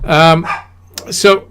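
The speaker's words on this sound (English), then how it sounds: "sorry about the dog" A dog barks loudly nearby, two sharp barks followed by another pair, over someone speaking.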